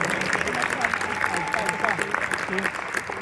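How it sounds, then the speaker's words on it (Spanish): An audience at the FanMedia Con fan convention in Oviedo gives steady applause for a few seconds, a close, even wash of clapping with a voice speaking over it. "Vamos a ver si se puede aplauso."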